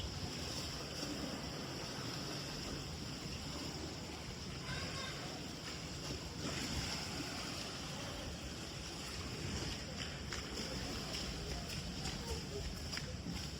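Rough sea water churns and slaps steadily against a fishing boat amid wind noise, a continuous wash heard from close by, with faint voices underneath.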